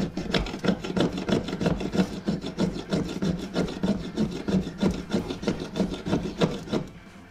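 Back of a knife blade scraped repeatedly along a ferro rod firesteel, a steady run of quick, rhythmic rasping strokes, close and fairly loud, with no talking.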